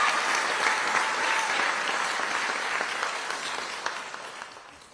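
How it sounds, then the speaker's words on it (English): An audience applauds award recipients at a State of the City event, a dense, steady clapping that slowly fades over a few seconds. "Let's give another round of applause."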